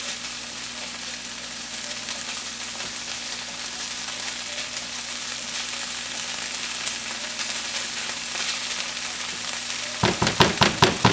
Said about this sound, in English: I'm going to give this a stir and just let it kind of sizzle.